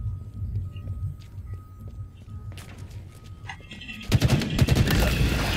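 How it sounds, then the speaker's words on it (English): Gunfire in Halo Infinite: scattered faint shots give way near the end to a loud burst of rapid automatic fire over a low rumbling game backdrop. "Just keep shooting."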